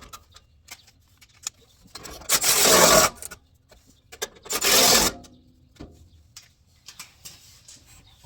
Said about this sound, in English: I'm going to use my battery ratchet and get these tightened down